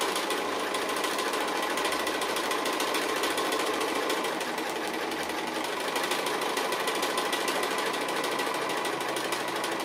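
A sewing machine runs steadily for the whole stretch, its needle hammering in a fast, even mechanical rhythm at close range while stitching appliqué.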